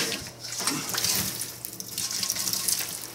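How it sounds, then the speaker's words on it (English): Water pours and splashes steadily out of an opened, rusty RV water heater onto a counter, a continuous close gushing stream with no talking. "Oh, there's water, I didn't want to see that,"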